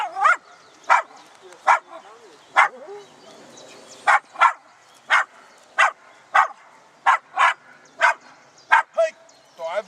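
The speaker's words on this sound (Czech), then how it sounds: "To je psík." A 15-month-old dog barks during protection training, giving a steady series of loud, close, sharp barks spaced about every half second to second over ten seconds, with strained whines between some of them.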